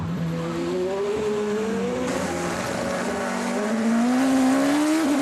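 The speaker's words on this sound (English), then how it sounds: "Down to second gear, up to third, and then back down to second gear in one of these Audis" A 2013 Audi Le Mans prototype race car downshifts into the slow Arnage corner and upshifts again, its engine note falling and rising in pitch, loud and continuous, with a faint tire squeal and no talking.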